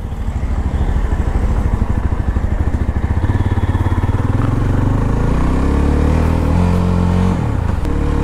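A Jawa 42 FJ motorcycle engine runs steadily during a test ride, a loud, close, even rumbling throb with a rhythmic pulsing that continues without pause and rises slightly in pitch toward the end.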